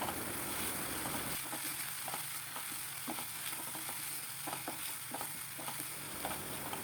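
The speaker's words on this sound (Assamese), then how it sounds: "এইটো ভালদৰে ভাজিম।" Okra (bhindi) with onion paste and poppy seeds fries in a pan, giving a steady hiss of sizzling oil broken by soft scrapes and taps as it is stirred, close and continuous with no talking.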